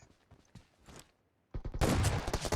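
M4 rifle fire in PUBG Mobile starts as quieter scattered shots, then becomes a loud, close, rapid burst of automatic fire at the end.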